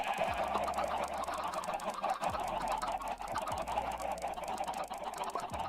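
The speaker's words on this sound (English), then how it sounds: "Man, chickens are too loud." Chickens in an animal pen in the Minecraft video game cluck and squawk repeatedly in a busy, overlapping stream, moderately loud against a low background hum.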